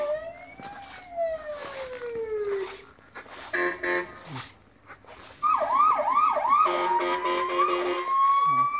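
Siren tones from a black-and-white toy electric police jeep, model M 3259 EBLR-1-2, with its roof and bull-bar signal lights. Several sweeping and warbling siren patterns change in turn, loud and close, with no talking.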